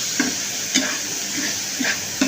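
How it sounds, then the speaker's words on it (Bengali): Shrimp, onion and green chili frying in hot oil in a home kitchen, a loud steady sizzle close up, broken by regular stirring scrapes roughly every half second. "চিংড়ি মাছ, পেঁয়াজ, কাঁচামরিচ তেলের উপর দিয়ে একটু ভাজা ভাজা করে নিয়ে"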